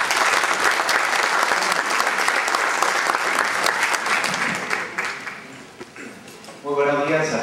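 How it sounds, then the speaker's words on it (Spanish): A loud, sustained round of applause from an audience at an occupational health and safety event on mining regulations, steady and dense for several seconds before tapering and then surging again near the end. "Lo recibimos por favor con un fuerte aplauso."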